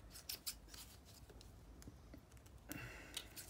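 Scissors trimming a paper gift card, a few close snips and crisp cuts at the start, quiet rubbing of paper in between, then a longer rasping cut near the end, with no speech.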